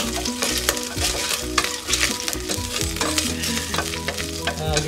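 Garlic frying in a pan of hot oil for ginataang langka, a loud, close, crackling sizzle with busy stirring and scraping throughout.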